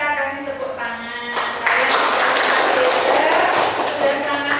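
Applause from a classroom of students breaks out in a broad, dense wash of clapping that swells after a quiet start and continues steadily, fairly close and loud throughout.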